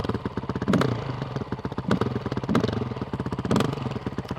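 A Honda CRF450RL motorcycle engine runs close by with a rapid, throbbing thumping beat, swelling into short revs roughly once per second.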